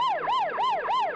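An ambulance siren wails loud and close, a rapid repeating rise-and-fall sweep cycling about four times in just over a second, with no voices over it.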